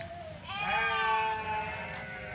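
Goats bleat near their pens in a village that has re-emerged from flooding; one drawn-out, wavering bleat rises close by, with a fainter call ending it over a quiet background.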